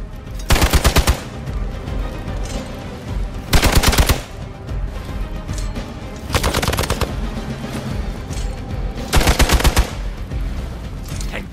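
Four loud bursts of rapid automatic gunfire from the video game Midnight Suns, each lasting about half a second to a second, separated by quieter ambient game sound.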